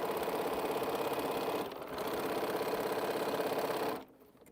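A sewing machine pieces quilt strips in a fast, steady mechanical whir close to the listener. It dips briefly in the middle, then resumes and stops near the end.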